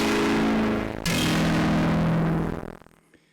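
Electric guitar played through a SUPRLUNR SR-01 distortion pedal: a loud, sustained, gritty distorted chord that shifts to a new chord about a third of the way in, rings on, then is cut off and fades with a faint echo tail.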